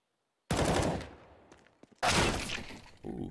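Gunfire rings out in a Counter-Strike match on Inferno between OpTic and HellRaisers: two loud, sharp bursts separated by a brief quiet gap, then a third starting at the end.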